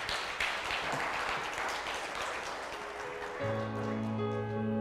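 A church congregation applauds after the sermon with a dense, steady wash of clapping for several seconds, then sustained organ or keyboard chords swell in as the clapping fades beneath them.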